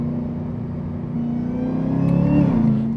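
A flood-damaged Chevrolet Camaro ZL1 pulls away, its V8 droning low and steady before rising into a louder, building rumble as it accelerates, heard from inside the car with no talking.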